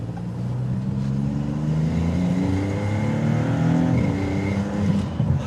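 A 2025 Maserati MC20 Cielo accelerates hard, its engine note climbing steadily in pitch and staying loud and close from start to finish with no speech.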